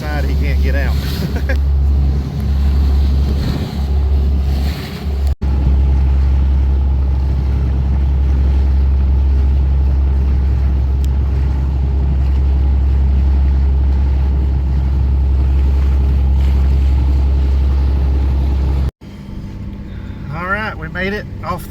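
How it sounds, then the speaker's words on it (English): On a car ferry crossing toward Cape Lookout, a deep, loud engine drone hums steadily with rushing water noise; a brief break cuts in near the end, and there are some voices early on. "All right, guys, we're on the ferry."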